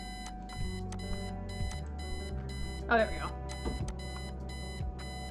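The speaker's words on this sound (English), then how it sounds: "Look, alarm clock, turn off alarm clock." Alarm clock ringing in the video game Kathy Rain, a repeating electronic beeping pattern in regular bursts, with someone briefly speaking over it partway through.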